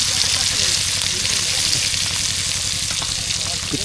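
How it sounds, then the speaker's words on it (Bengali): Fish dropped into hot oil fries with a dense, loud, continuous sizzle and crackle close up, while a person talks faintly underneath. "বন্ধুরা তেল কিন্তু গরম হয়ে গেল, এবার আমার যাবে মাছ ভাজা।"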